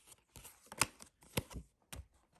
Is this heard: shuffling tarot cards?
yes